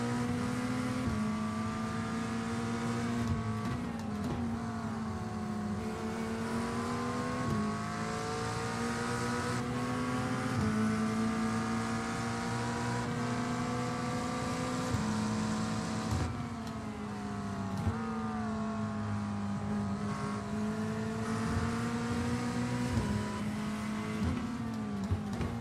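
A GT3 race car engine in iRacing drones steadily under throttle, its pitch sweeping up through the gears and dropping on shifts, with occasional tire squeal, loud and continuous with no talk.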